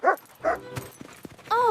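A lost dog gives a few short, high yips and whimpers in quick succession, close by and fairly loud, with quiet gaps between the cries.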